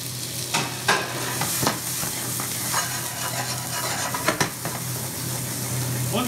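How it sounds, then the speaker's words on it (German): Shallots and mushrooms sizzle in foaming butter in a hot pan while a utensil stirs and scrapes against it now and then, a steady crackle close up. "dann Butter in die Pfanne und aufschäumen lassen. Die Schalotten und die Champignons dazu."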